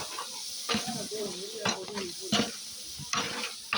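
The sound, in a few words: frying and stirring with tomatoes and chilli powder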